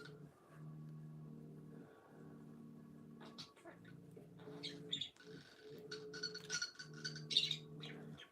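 A small bright yellow pet bird chirps indoors in short, faint bursts that grow busier toward the end, set against a quiet room with a steady low hum.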